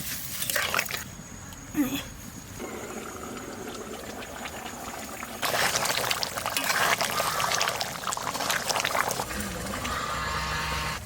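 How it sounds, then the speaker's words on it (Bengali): Water pours into a pot of duck meat cooking on the stove, giving a steady broad rush that swells louder midway and continues to the end. "এবার একটু জল দিয়ে দেবো"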